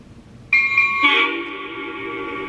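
Shrill, thin horn from a Lionel F40PH model locomotive in sequence control mode: a high tone blasts in abruptly, shifts to a fuller chord about half a second later, then holds steady and loud.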